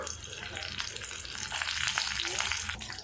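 Mustard seeds, urad dal, chana dal and cumin sizzle in hot oil for a South Indian variety rice: a dense, steady frying hiss with scattered crackles, close and fairly loud throughout, with no talking.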